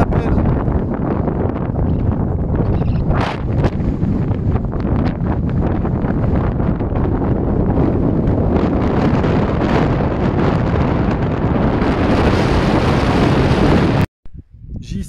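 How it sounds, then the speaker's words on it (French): Strong mountain wind buffets the microphone in loud, continuous rumbling gusts on a Pyrenees high route, roaring almost without pause before cutting out abruptly near the end. "Il y a un vent de malade"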